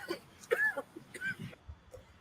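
A person coughs and clears their throat in a few short, rough bursts, heard close up and fairly quietly, with some talk in between.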